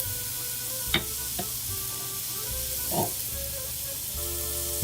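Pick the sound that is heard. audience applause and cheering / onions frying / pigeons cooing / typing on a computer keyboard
onions frying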